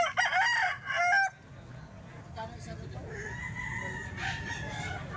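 A ten-month-old ball stag rooster, wet from the rain, gives one loud close crow at the start, followed by steady outdoor background noise.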